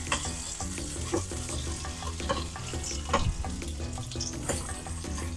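Chorizo sizzles in a pan while a utensil scrapes and taps, breaking the meat into small crumbles, with steady frying crackle under repeated close knocks.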